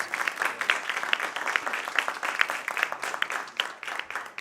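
Audience applause for a board of trustees at a town hall meeting, many hands clapping in a lively, uneven patter with sharp individual claps standing out, moderately loud and alone.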